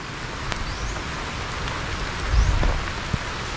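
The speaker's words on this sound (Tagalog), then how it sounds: "Malakas ng ulan." Heavy rain pours down in a dense, steady hiss, with a few sharper splashes and a low rumble partway through.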